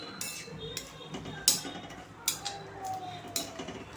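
Spices being stirred into a red amaranth and potato curry with a metal spoon, giving light scattered clinks and scrapes against the pan, some sharper taps standing out over a quiet kitchen background.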